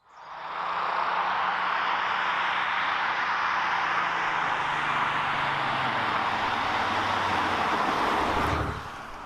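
Broad, steady roar of a 2020 Audi S5 Sportback diesel on the move, mostly road and wind noise with a low engine drone underneath, holding constant for several seconds before easing slightly near the end.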